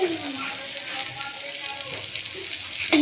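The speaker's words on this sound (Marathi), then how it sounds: "चांगलं कांदा आणि टमाटरला चांगल्या पद्धतीने फ्राय करून घेऊ आपण" Onion and tomato frying in a pan for anda bhurji, a steady close sizzle with soft stirring and a faint voice now and then.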